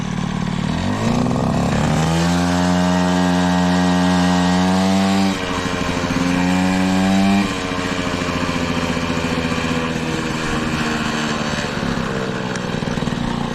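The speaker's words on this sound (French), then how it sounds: "Mon ralenti est super haut, beaucoup trop haut." A moped engine with a custom TPU exhaust pipe idles too high, a loud, close, steady buzzing drone that rises and drops in pitch a few times, with no talking.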